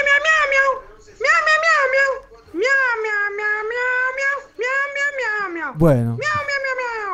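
Cat meowing during a Spanish-language interview, a series of long, loud, wavering meows following one another closely, with a brief speaking voice near the end.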